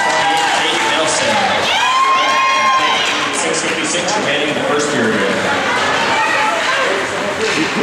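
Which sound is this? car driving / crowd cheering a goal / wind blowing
crowd cheering a goal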